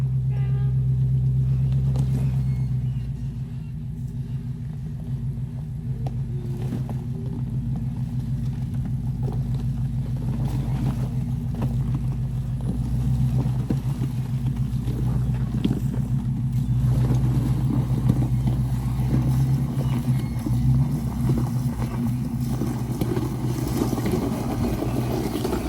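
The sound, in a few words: Jeep engine revving off-road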